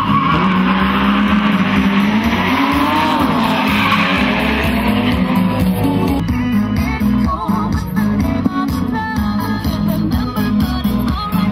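Toyota Corolla SR86 race car with an 86 D-series engine, skidding during a drift practice session at Osijek: a loud, continuous, revving engine whine blends with tyre squeal throughout, with no talking.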